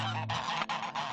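Flock of geese honking together, loud overlapping nasal honks in quick bursts, close by and filling the whole short moment.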